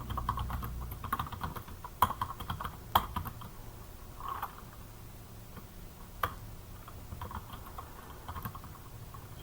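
Keystrokes on a computer keyboard, typed close and fairly quietly in irregular bursts, with a few sharper clicks standing out against a soft background.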